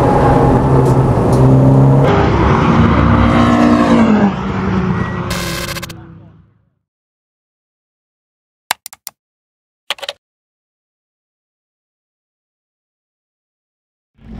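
A Renaultsport Clio 172 engine drives hard on a track circuit, its loud, close note rising and changing pitch through the revs for about six seconds before cutting to near silence broken by a few faint clicks.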